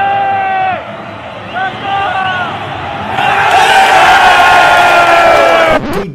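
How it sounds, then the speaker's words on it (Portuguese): A football crowd at the Corinthians stadium roars and chants during a match against Santos, with sustained massed voices that surge louder as the ball is won back, close and enveloping. "Doideira que a torcida vibra pra caramba porque recuperou uma bola."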